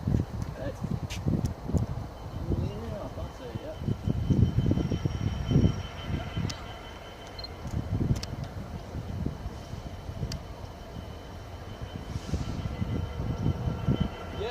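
Class 66 diesel locomotive 66953 passing through Peterborough, a steady rumbling roar with rattling wagons that swells and eases, nearby, with people talking over it.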